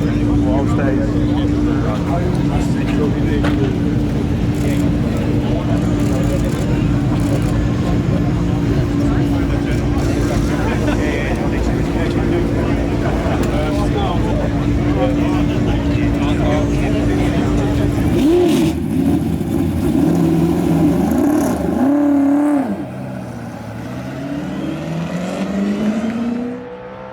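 A V8 Supercar at the Adelaide Motorsport Festival holds a loud, sustained engine roar, then revs rise and fall in sharp bursts near the end before fading, with no voices heard.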